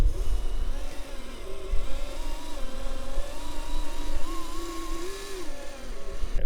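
A 1/10 scale FMS FCX10 RC Chevy K5 Blazer crawling offroad, its small electric motor whining steadily with rising and falling pitch as it strains over terrain, close and continuous.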